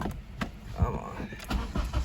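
An Acura RSX engine cranks on bad gas and fails to catch, giving a rough, uneven starter churn with bursts of effort, close by, while a voice speaks over it.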